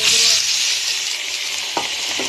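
Green chillies and soaked rice are fried together in a pot for khichuri, producing a loud, close, continuous sizzle with a faint scrape of the spoon near the end.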